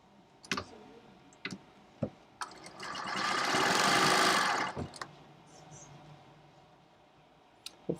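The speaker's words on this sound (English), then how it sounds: "I like to sew from the open side to the closed side, so that way if I don't get it perfectly lined up, the machine will line up that edge for me." A sewing machine stitching quilt pieces runs in one steady whirring burst of a couple of seconds, set between sharp clicks and taps of handling the fabric and machine, close and fairly quiet.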